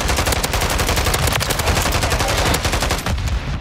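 Video game gunfire in a military shooter, dense rapid automatic bursts rattling loudly and continuously up close before easing off at the end, with no talk.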